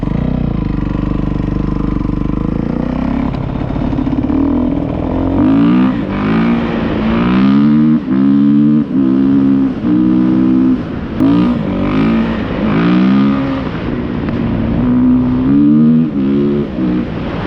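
Kawasaki KX 450 dirt bike engine with a transmission problem, revving loud and close, rising and falling through repeated throttle blips as it is tested in fourth gear.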